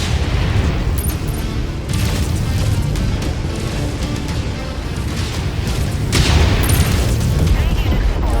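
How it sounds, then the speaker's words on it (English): Incoming missile explosions and heavy weapon fire in the video game MechWarrior 5, a loud, dense and continuous barrage of booms and rumbling blasts with stronger surges near the middle and end, under intermittent radio voices. "Incoming missile."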